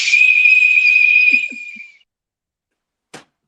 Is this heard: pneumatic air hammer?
no